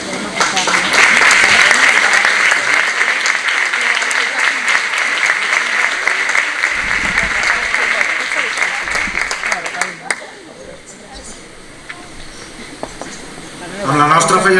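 Dense, sustained audience applause at a Valencian falla presentation ceremony as the outgoing honoree leaves the stage, loud and continuous for about ten seconds before thinning out, then swelling briefly again.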